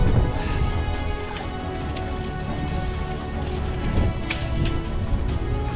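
Steady rain falling during a summer thunderstorm in the Arizona Sonoran Desert, a dense continuous patter on surfaces with a few louder drops, no voices.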